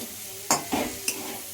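Kundri (ivy gourd) frying in a pan with onion and green chili sizzles quietly while a spatula stirs it in three brief scraping strokes, close and alone.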